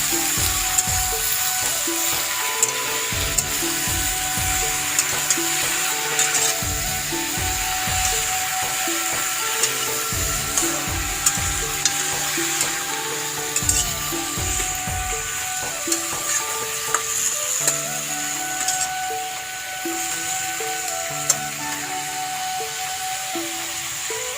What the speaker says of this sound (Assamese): হালধি এতিয়া মই ভালকৈ মিহলাই ল'ম।